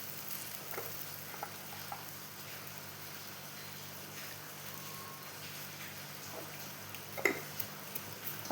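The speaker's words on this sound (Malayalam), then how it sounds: "അപ്പോൾ ഇത് നല്ലോണം തിളച്ച് കുറുകി വരണം." Tamarind puli inji with salt simmers gently in a pan, a faint, steady low bubbling with a few soft pops and a brief clink near the end.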